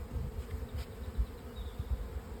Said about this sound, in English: The bee came up to smell that